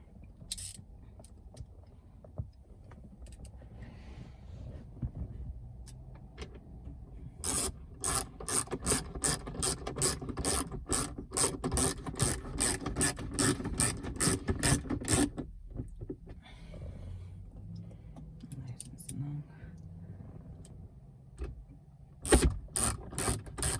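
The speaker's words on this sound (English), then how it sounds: "And now we're just gonna put in our two screws." Two screws driven in while installing LED lights on a 2019 Ram truck: a close, ratcheting, grinding whir in sustained bursts, with a quieter stretch between, and no talking.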